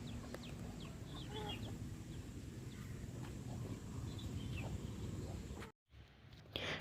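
A 15‑month‑old Kakidega rooster from Bhimavaram, about 3 kg, gives soft, scattered clucks over a steady outdoor background hum, with a short cutout near the end.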